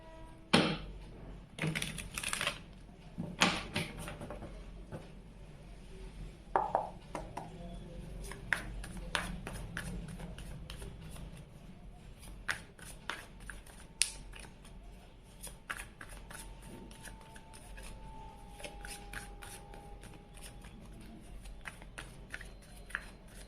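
Tarot-style cards being gathered and shuffled by hand, with soft riffling flutters and scattered papery taps and clicks, close but quiet, coming in irregular bursts.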